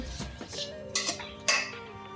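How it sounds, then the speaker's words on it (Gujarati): Raw mango pieces mixed with turmeric and salt in a metal vessel, a few ringing clinks and scrapes of a spoon against the container, close and distinct, with no speech. "આને આપણે આમ હલાવી લેવાનું છે એટલે સારી રીતે હળદર અને મીઠું બને લાગી જાય"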